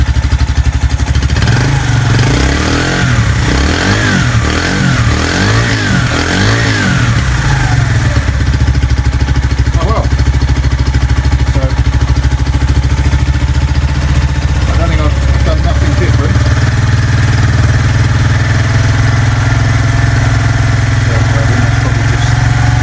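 A Senke X6 motorcycle engine cranks and fires up, then settles into a loud, steady, close idle with a throbbing chug, its starter-solenoid repair being tested.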